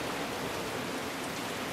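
Rain hitting a vehicle in the video game Stars End makes a steady, even hiss of dense drumming, with no talking.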